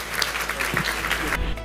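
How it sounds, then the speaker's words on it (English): Audience applause for Houston mayoral candidates at a chamber forum: steady, dense clapping from a crowd filling the whole stretch, fairly loud and continuous, cutting off sharply near the end. "Give them a round of applause."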